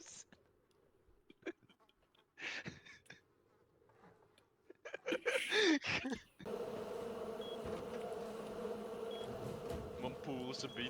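Bees buzzing in a steady, continuous drone that follows a few seconds of scattered knocks and handling noises, fairly close and constant with no speech.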